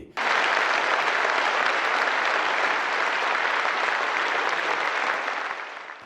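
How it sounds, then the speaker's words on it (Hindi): Thunderous applause from a large crowd at a political gathering bursts in sharply and holds loud and steady for several seconds, then fades slightly at the end. "इन तालियों की गड़गड़ाहट से मत बहकिए"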